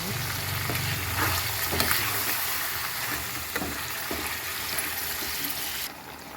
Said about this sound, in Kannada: ಈಗ ಇದಕ್ಕೆ ಆನಿಯನ್ ಪೇಸ್ಟ್ ಹಾಕ್ತಾಯಿದ್ದೀನಿ. ಚೆನ್ನಾಗಿ ಮಗ್ಸ್ಕೊಳ್ಳೋಣ.